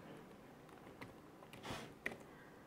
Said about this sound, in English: Then we type in our password.